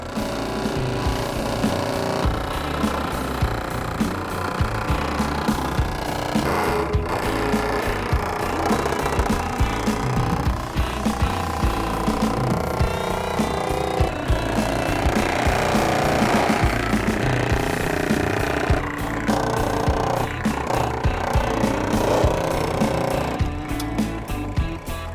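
A manual bead roller presses a bead into a WD-40-lubricated sheet metal panel, giving a continuous loud grinding, rattling metallic churn with ratchet-like clicks, sustained for the whole stretch with no talk.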